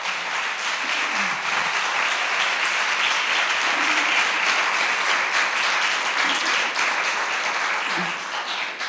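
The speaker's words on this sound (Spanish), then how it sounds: "Puedes darle un aplauso al Señor por esto" A church congregation gives steady, sustained applause during a sermon, dense even clapping throughout with a few faint voices beneath, tapering slightly at the end.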